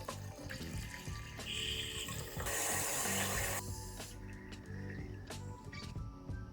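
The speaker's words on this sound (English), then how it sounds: "the float valve automatically opens, allowing water to flow in and maintain the same water level" Water runs steadily through a float valve into an auto-fill cigar humidifier, a close, continuous trickling and splashing that swells briefly to a louder gush before easing back.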